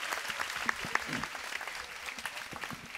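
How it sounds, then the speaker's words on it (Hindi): Audience applause at a Holi festival gathering in a gurudwara hall at Shantikunj, a dense steady patter of many hands clapping at moderate level, with a few sharper claps standing out and faint voices underneath. "जोरदार तालियों से इनका उत्साह बढ़ा दें"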